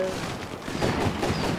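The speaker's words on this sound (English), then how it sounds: "This is the biggest fireworks show and fireworks simulator." Fireworks in a Roblox fireworks simulator burst in a dense, rapid series of crackling pops and booms, loud and continuous for the whole moment.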